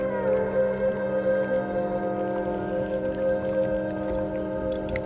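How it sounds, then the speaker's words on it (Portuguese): Whale and dolphin calls picked up by an underwater hydrophone near the Aeolian Islands, steady, sustained tonal moans layered over a constant hum of deep-water noise, with faint clicks scattered throughout. "permite captar som debaixo de água, em particular todos os sons produzidos pelas baleias e pelos golfinhos"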